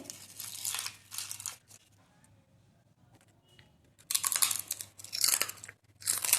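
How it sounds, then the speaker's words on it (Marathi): A crisp homemade potato papad is crunched close to the ear in several sharp, crackling bite bursts, separated by near-silent pauses and followed by a rapid run of loud crunches. "माझ्या मुलाने खाल्ला पण तुम्ही आवाज ऐकू शकता किती कुरकुरीत झाला आहे"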